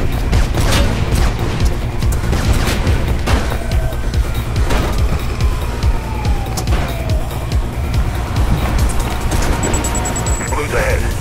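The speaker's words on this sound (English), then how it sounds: "I can hear gunshots" Sharp gunshots crack in rapid bursts amid dense, noisy game action in Mirror's Edge, with sirens faintly wailing in the background.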